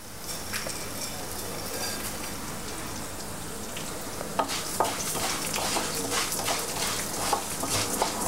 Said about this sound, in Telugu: లైట్గా ఫ్రై చేద్దాం. తర్వాత ధనియాలు వేసుకుందాం,